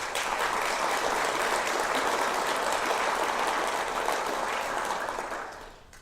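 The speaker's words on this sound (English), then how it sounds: "We should have a big round of applause for them right now." Sustained round of applause from an audience at a Vimy Ridge Day ceremony, a thick even wash of clapping that holds steady for about five seconds, then tapers off at the end.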